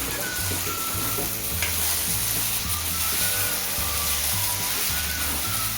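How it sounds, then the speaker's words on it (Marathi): Washed masoor dal being sautéed in a pan with cluster beans, a loud continuous sizzle with repeated rhythmic scraping and stirring strokes, close up and without voices. "डाळीला परतून घ्यायचं आहे व्यवस्थित"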